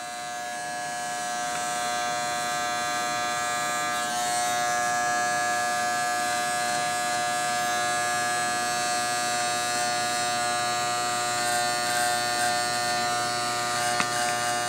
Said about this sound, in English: Now we're going to shave up to about 1/2 inch below the taper.